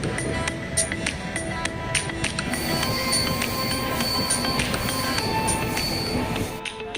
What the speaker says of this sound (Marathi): आता ट्रेन पोचली आहे आसाममधील बोंगाईगाव या रेल्वे स्टेशनवर